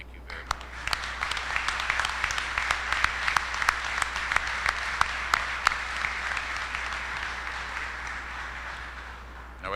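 Steady audience applause at a ribbon cutting for the Williamson County Public Safety Center, honoring emergency responders, with dense clapping and sharp individual claps standing out, holding at a moderate level for about ten seconds before tapering slightly.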